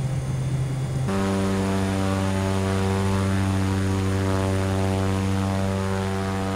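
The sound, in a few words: Lear 45 aircraft engine in a flight simulator video game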